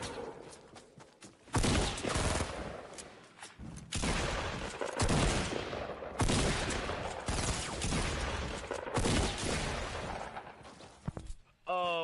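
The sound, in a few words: shotgun gunfire in the video game Fortnite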